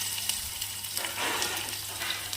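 Onions fry in a small tempering pan after dried red chillies, a quiet steady sizzle with soft crackles and bursts of spattering, close by and without speech.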